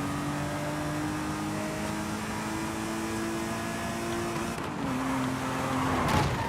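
A car in the video game Forza Horizon 5 has a distinctive, mechanical-sounding engine that hums at a steady pitch near the microphone, then dips briefly and climbs again with a rising rev at the end.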